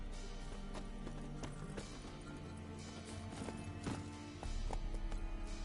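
Roach, a horse in the video game Witcher 3, gallops with quick repeated hoof clops over a low background score, fairly quiet, with a brief whinny-like accent.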